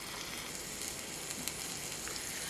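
Ground beef and chopped onion fry in a pan, giving a steady, even sizzle with soft crackles throughout and no voices.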